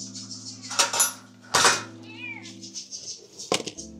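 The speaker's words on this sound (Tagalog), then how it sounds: "Bibigyan natin yung pusa." Hungry pet cat named Kiking meowing while being fed, several sharp, close meows spaced through the moment, mixed with clinks of dishes and cutlery and a steady low hum underneath.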